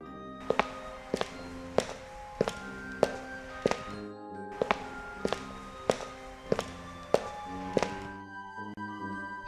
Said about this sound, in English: And with it, he heard distinctly the sound of footsteps.